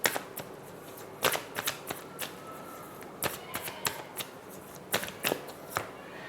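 Tarot cards are shuffled by hand in a quiet room, a run of sharp papery riffles and slaps in quick irregular bursts, close and crisp, with stretches of soft shuffling between them.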